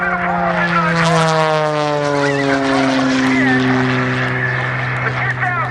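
Aerobatic propeller airplane flown by Sean D. Tucker pulling up at the 2014 Vectren-Dayton Air Show: a loud, close engine drone with sliding pitch throughout, under a voice talking over it.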